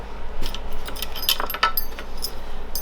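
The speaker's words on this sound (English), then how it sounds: "A selection of crypt keys." A bunch of crypt keys, used by a blind woodturner, jingles and clinks in several bright metallic bursts, close up, with a low hum beneath and no talking.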